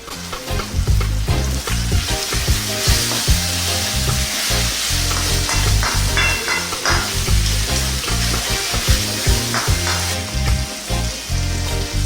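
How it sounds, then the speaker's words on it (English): Onions and tomatoes fry loudly and steadily in a pan for Sri Lankan fish curry, with a dense, continuous sizzle and crackle close up and no talking. "Let's kind of just cook away, get those onions and tomatoes nice and soft."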